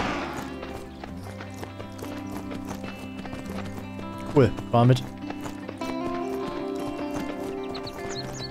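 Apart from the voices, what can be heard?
horse hooves clip-clopping in the video game Myth of Empires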